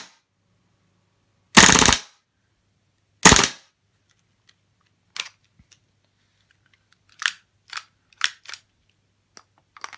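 A WE M712 gas airsoft pistol fires on full auto: two loud, rapid rattling bursts up close, followed by a scattering of quieter single mechanical clacks and clicks.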